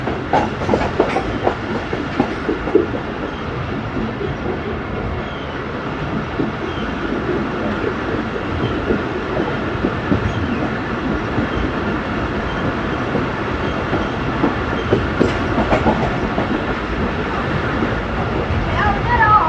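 Passenger train rolling into Gujar Khan railway station in steady rain, with continuous close rumble and clickety-clack of wagons over the rails throughout, no voices.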